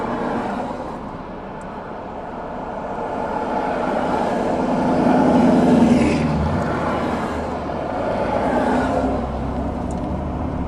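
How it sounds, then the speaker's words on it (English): Road traffic on a route out of Snohomish toward Everett makes a steady broad rumble that swells as vehicles pass, heard close as from inside a moving car, with no talking. "That's a lot of traffic"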